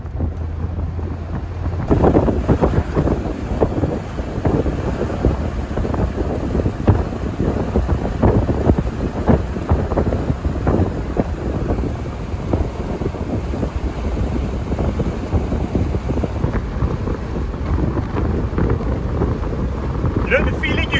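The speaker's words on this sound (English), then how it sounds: "the feeling you get with the wind in your hair like this" Wind buffets loudly and steadily around a Mercedes SLK convertible driven with the top down, a continuous roar of rushing air and road noise with no break across the whole stretch.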